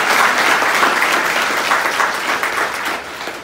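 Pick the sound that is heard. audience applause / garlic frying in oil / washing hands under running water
audience applause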